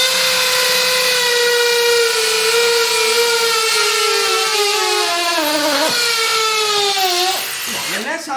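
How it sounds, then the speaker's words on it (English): A Kobalt XTR hammer drill boring into concrete gives a loud, sustained motor whine whose pitch sags gradually under load before it cuts off and winds down near the end. "That's how you drill through concrete! Milwaukee ain't got nothing on cobalt!"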